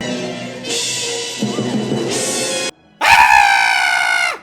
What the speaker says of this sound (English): Huh, they got a puppy too?